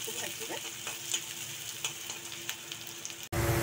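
Onions frying in a pan with bay leaf and caramelised sugar for a coconut-milk prawn curry, a steady close sizzle broken by soft stirring scrapes, with no talking.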